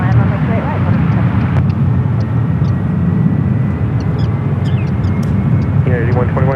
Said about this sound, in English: Japan Airlines 777 on its way out to the 28s